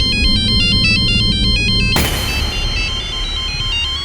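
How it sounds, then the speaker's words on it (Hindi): A phone ringtone repeats a bright, loud electronic melody in regular pulses, then cuts off abruptly about halfway, leaving a quieter tonal hum and room noise. "तुम्हारा फोन बज रहा है।"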